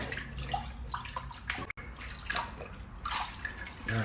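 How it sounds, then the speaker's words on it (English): Seitan dough made from white flour is squeezed and kneaded in a bowl of water to wash out the starch, with irregular close sloshing, splashing and dripping sounds and a brief pause midway. "I'm going to go ahead and wash it one more time because the water is still pretty white."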